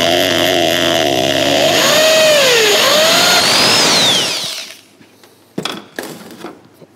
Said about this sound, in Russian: Все, и сверлим. Сверлим восьмеркой.